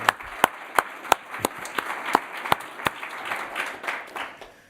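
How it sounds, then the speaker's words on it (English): Audience applause at an annual counterterrorism leadership symposium, heard as a moderate wash of many hands with a few sharper individual claps standing out in a loose rhythm, fading slightly toward the end. "So please join me in a round of applause to acknowledge Frank and Mary."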